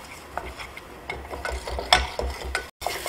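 A white roux of equal parts butter and flour stirred over low heat, heard as close, soft scraping and rubbing strokes of a spoon against the pan in an uneven rhythm, no one speaking.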